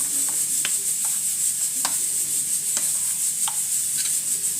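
A spoon stirs harira soup ingredients in a large pot with a soft, steady sizzle underneath, punctuated by a handful of sharp scrapes and clinks against the pot spaced irregularly.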